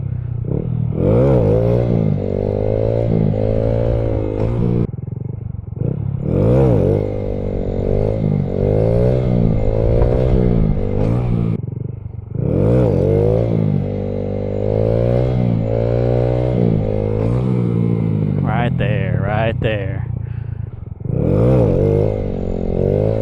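A 2015 Honda Grom motorcycle engine revs loudly and up close during wheelie practice, climbing and falling in several long throttle pulls with short easing-off dips between them.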